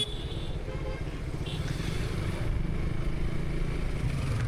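A motorcycle on a road trip hums along at a steady cruising pace, a low continuous engine drone mixed with road and wind noise.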